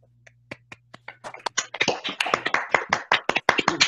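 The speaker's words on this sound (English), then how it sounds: "I'm going to ask everyone to please unmute themselves and applaud the speaker" A few scattered claps start sparsely from participants unmuted on an online call, then build into a denser patter of sharp individual hand claps, close and uneven.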